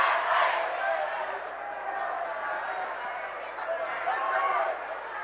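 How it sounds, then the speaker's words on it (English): A high school boys basketball crowd at a district final cheers and roars continuously in a packed gym, loud and sustained with swells of shouting, under a play-by-play announcer's voice. "Crowd pumped up for this one."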